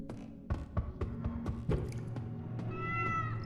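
Cat meowing in The Dreadthorn Therapist video game, a series of short, close meows in an uneven rhythm, about seven or eight calls, ending with a longer drawn-out meow, no speech.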